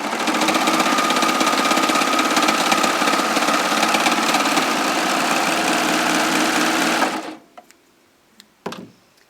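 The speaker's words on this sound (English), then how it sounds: "you'll want to lower the presser foot before you start sewing" A Baby Lock four-thread serger sews stretchy knit fabric, its motor running in a loud, steady, close whirring hum for several seconds before stopping, followed by a couple of faint clicks and handling sounds.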